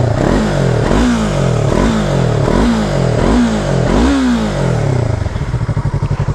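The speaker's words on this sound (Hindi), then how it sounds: "आउ तार एग्जॉस्ट रे भी गोटे बढ़िया बास्ट साउंड आसुची" Close, loud exhaust from a Yamaha R3 motorcycle with a deep bassy tone: about five quick throttle blips in a steady rhythm, each rev climbing and dropping, before settling into a choppy, pulsing idle.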